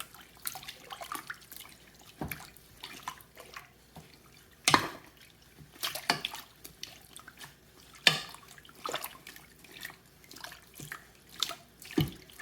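A wooden spoon pokes a crocheted wool bag around in hot soapy water, making soft intermittent sloshes, drips and splashes with quiet gaps between them.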